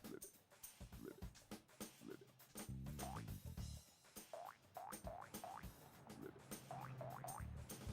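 Cartoonish frog croaks from the Frogger video game on the original PlayStation: a rapid series of springy, boinging croak sounds repeating over game music, with no talking.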